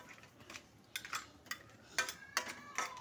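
A cooking pot of crab curry gets its lid, heard as several light metallic clinks and taps in close succession, close and quiet, with no speech.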